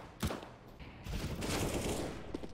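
Rapid bursts of gunfire from a Counter-Strike style shooter video game, with a sharp shot early on followed by a sustained, loud barrage of firing that carries through most of the clip.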